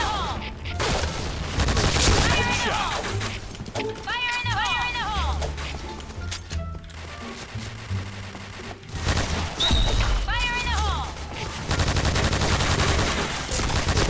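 Rapid bursts of gunfire from an L86 LSW light machine gun in a Thai online first-person shooter, crackling repeatedly over game music and effects at a steady loud level, mixed with other in-game shots.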